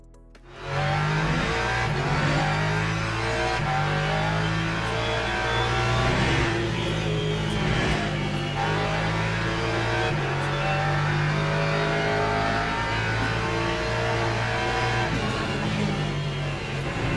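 A GT3 race car engine in the sim game Le Mans Ultimate, on the Circuit of the Americas, rising and falling through repeated gear changes as it accelerates, loud and continuous from the cockpit with a faint tire squeal.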